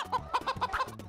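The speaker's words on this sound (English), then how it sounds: "hen. Hen." A hen clucks in a quick run of five or six short, close, rhythmic clucks.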